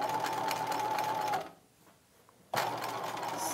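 A sewing machine stitching a dress lining runs in a steady fast whir, stops for about a second of near silence, then starts up again, loud and close.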